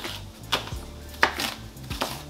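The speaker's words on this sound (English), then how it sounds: "And now it's time to chop the onion." A knife chops an onion on a cutting board in three distinct strokes, spaced unevenly, over faint background kitchen noise.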